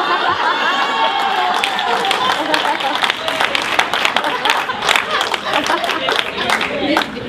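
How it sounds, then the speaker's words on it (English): Fans at a fall fan event for a team clap in a loose, busy patter beneath crowd chatter and scattered laughter, with a voice speaking over the noise. "I can hear all of you clap."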